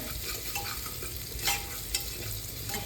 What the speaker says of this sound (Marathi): थोड्या वेळ आता मी कांद्याला शिजू देणार